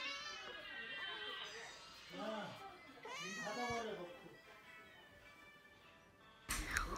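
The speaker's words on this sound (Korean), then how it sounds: "우리 집 야옹이들도 맛있는 거 먹기" A couple of drawn-out, wavering cat meows close by as cats eat, followed by a brief burst of noisy rustling at the end.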